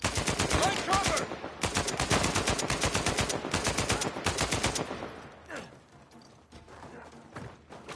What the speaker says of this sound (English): Oh shit, Sam! Sniper! Right cover!